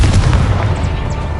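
A Confringo fire spell in the Hogwarts Legacy video game going off as a loud, dense blast with a deep rumbling low end, sustained and close for a moment.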